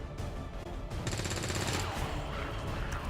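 Rapid automatic gunfire from XCOM 2: War of the Chosen, a dense burst of shots rattling in quick succession, moderately loud and continuous over a short stretch.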